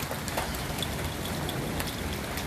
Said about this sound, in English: Rain is starting to pick up.